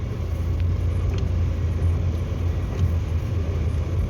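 A car drives along a country road in Zhytomyr's Polissia region, its engine and tyres making a steady, close, continuous rumble with no breaks.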